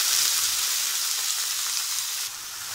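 Ground spring onion frying in hot oil in a pan, a loud, steady, close sizzle with a bright hissing texture that eases slightly near the end, with no talking.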